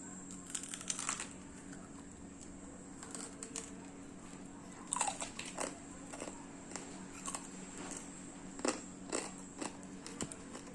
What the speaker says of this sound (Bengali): পকোড়াটা দেখে নিয়েছো, এবার দেখো আমি খাচ্ছি